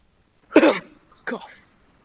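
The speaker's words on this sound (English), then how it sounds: "Cough, cough." A person gives two short coughs about half a second apart during a live adult improv comedy show, close and fairly loud, with no other speech around them.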